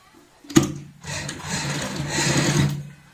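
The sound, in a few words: sewing machine stitching a fabric strip for a purse handle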